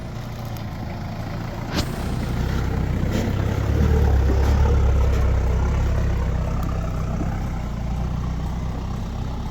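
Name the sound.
Patrol and Hilux 4WDs driving in convoy down a track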